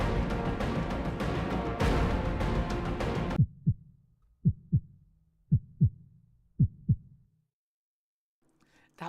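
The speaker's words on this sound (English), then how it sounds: "I gave it that heartbeat because, you know, that was really sad." A video game's heartbeat sound effect thumps in slow paired beats, six or so distinct soft thuds, following a loud dense burst of game noise that cuts off abruptly.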